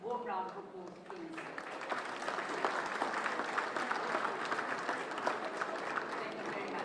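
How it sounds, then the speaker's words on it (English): A sustained round of applause fills a conference hall at an automotive sector gathering for the Deputy President of South Africa, steady and dense throughout after a brief opening voice. "a warm round of applause,"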